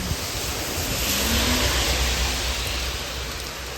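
Raindrops fall into river water, producing a steady, close, dense hiss of rain across the whole stretch, with no voices.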